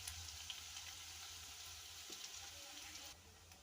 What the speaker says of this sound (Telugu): అదే నూనెలో ఉల్లిపాయ పచ్చిమిర్చి అండి వేసుకుని చక్కగా ఫ్రై చేసుకోవాలి.